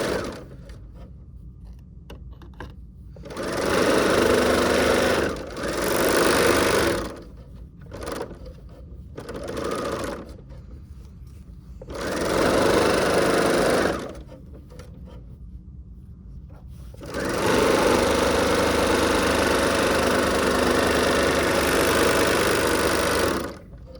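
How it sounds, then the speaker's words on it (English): An overlock sewing machine runs a 3-thread overlock stitch on the sides of a tote bag, whirring in several loud bursts with quiet pauses between them, no talking. "I've got to sew my open end sides together, so I've got everything ready to go, and I'm doing just a 3-thread overlock stitch."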